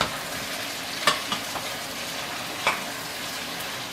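Sausages sizzle in a pan on a lowered hotplate, a steady frying hiss with a few sharp scraping stirs of a utensil, close and fairly quiet, with no voices.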